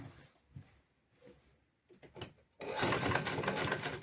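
A sewing machine stitches a lungi (sarong) during a basic tailoring lesson: faint handling noises and soft taps, then a loud, steady mechanical whirring run of stitching for the last second and a half.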